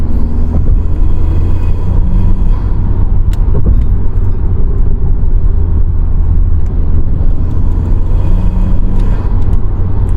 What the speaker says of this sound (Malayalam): ആ ശബ്ദങ്ങളിലെ എയർ ഇൻടേക്ക് ശബ്ദം മാറും